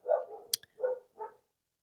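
Dogs barking somewhere nearby, three short, loud barks spaced about a third of a second apart, with a sharp click between the first two and no other sound.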